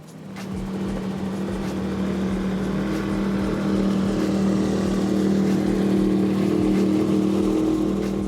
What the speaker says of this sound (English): we had to let you listen in to those Mercury Racing 1550s in this 42-foot fountain